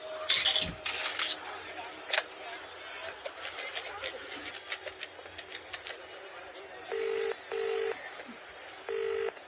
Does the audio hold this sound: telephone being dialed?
yes